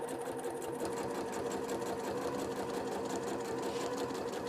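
A low shank domestic sewing machine runs continuously while free-motion quilting along a ruler template, its fast even stitching rattle and motor hum steady and close throughout.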